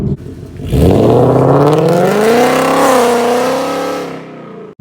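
A 2018-19 Ford Mustang GT V8 with longtube headers revving once, loud and close: a deep rasping roar that swells sharply, holds high for a few seconds, then sinks away.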